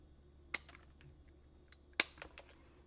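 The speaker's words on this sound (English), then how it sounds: "Let's cut some fuse." Anvil fuse cutters snip through pyro fuse in two sharp, quiet clicks about a second and a half apart, each followed by faint ticking against a low, hushed background.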